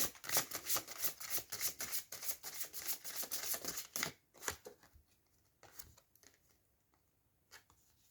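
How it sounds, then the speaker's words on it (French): Playing cards are handled and drawn from a deck, giving a close, quick series of crisp snaps and slides that thin out into a few isolated flicks. "Hop, je vous montre la carte. J'en tire une autre."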